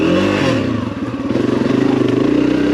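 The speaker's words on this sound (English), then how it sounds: "I'm going to show you what you can do on the dirt bike" Dirt bike engine on a trail ride, revving steadily with a rough, pulsing buzz, close and loud throughout, with a brief dip before the throttle picks back up.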